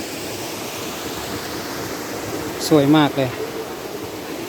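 A small outdoor waterfall with layered cascades gives a steady, even rush of falling water throughout, with a brief spoken exclamation rising over it near the end.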